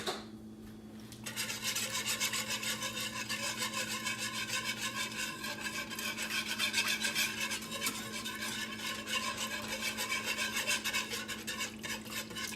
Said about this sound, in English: let me get my whisk